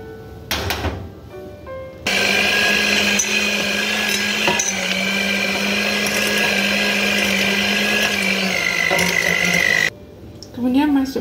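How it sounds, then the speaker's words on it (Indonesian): Electric mixer beating cream cheese with sugar for a Hokkaido double cheesecake, a loud, steady motor whine with a low hum and grinding texture that runs for about eight seconds, with brief clatter before and after. "Kemudian mixer cheese cream dengan gula, ya."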